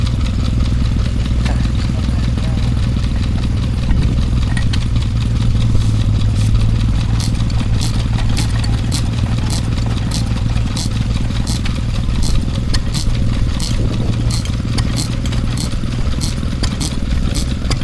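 A Ruston Hornsby stationary engine at a country show near Ringmer, Sussex runs steadily while powering a Bamford plough mill, a continuous low chugging rumble with rattling and clatter, loud and close throughout.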